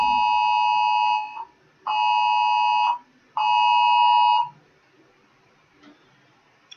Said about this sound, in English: Oh, I'm getting an Amber Alert too.